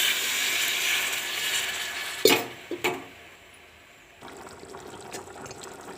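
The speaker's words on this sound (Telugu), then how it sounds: "నీళ్ళు పోసుకుంటే" Water goes into a pan of potato and egg curry, starting as a loud hissing pour, then a couple of sharp clunks of the vessel, before settling into a quieter trickle and simmer.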